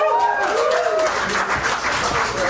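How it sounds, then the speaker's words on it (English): An audience claps steadily at an evening event, a dense wash of applause with voices calling out over it throughout. "Thanks for clapping."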